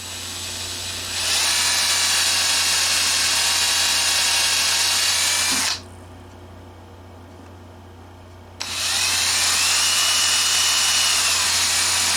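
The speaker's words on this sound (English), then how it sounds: "drill the new holes" A power drill whines loudly and steadily for several seconds boring holes in a vintage Fender Duo-Sonic guitar body, stops briefly, then starts up again for another long run, with no talking.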